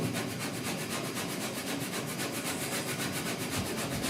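A sanding block works primer/surfacer on the dash and firewall of a 1966 Ford F100, a continuous rhythmic rasping scrub that is close and loud, with no pauses.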